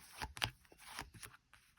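Tarot cards are riffled and shuffled close up, a quick series of soft papery flicks and taps, fairly quiet.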